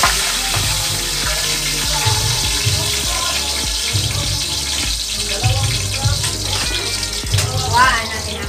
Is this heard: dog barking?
no